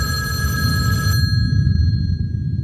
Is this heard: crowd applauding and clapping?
no